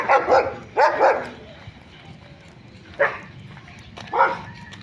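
Dog barking in scattered bursts: a quick double bark, another pair, then two separate barks after pauses, moderately close outdoors near a large compound with background ambience.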